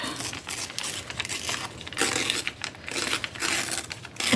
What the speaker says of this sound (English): put it to the edge of the book and just rip